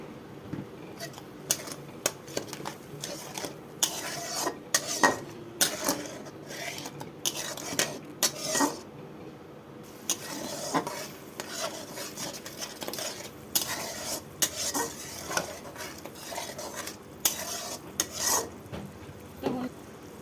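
Spice paste with turmeric for a prawn curry is sautéed in a pan, a utensil scraping and clinking in steady repeated strokes over a soft frying hiss, close and moderately quiet throughout.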